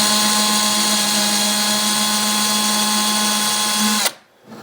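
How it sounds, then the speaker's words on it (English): Power drill boring steadily through drywall during a wall sconce light installation, a loud continuous whine with a strong hum that runs nearly four seconds before stopping abruptly, followed by brief quiet. "We're going to drill this nice and slow because we don't want to poke through and hit the wall on the other side."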